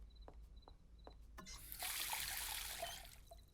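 Water poured into a cup for a drink in a Hindi-dubbed cartoon, a short trickle after a few soft clicks and taps, rising into a clear splashing stream for about two seconds, then tapering off.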